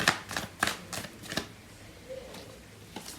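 A deck of tarot cards is shuffled by hand, a series of crisp riffling bursts and soft papery flicks in an irregular rhythm, close and fairly quiet, with no voices.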